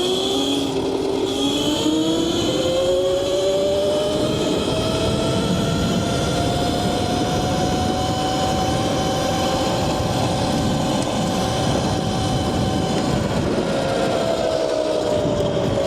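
A 60V Qronge X1 Spark electric bike under way, giving a steady, loud whine that rises and glides in pitch over rushing wind and road noise, continuous throughout with no talking.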